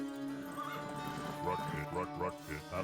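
Horses whinny and snort in Age of Empires: Definitive Edition among game sound effects and a droning musical background, with a voice talking over them.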